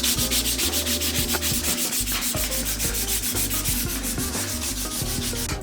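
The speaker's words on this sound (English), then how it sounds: "We probably sand this now." Sanding a prop staff part by hand, a loud rhythmic scratchy rubbing in quick back-and-forth strokes, close and continuous with no talking.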